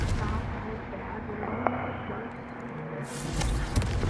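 A Confringo fire spell cast in the Hogwarts Legacy video game, heard as a burst under a dense rumbling game soundscape, with a sharper blast near the end.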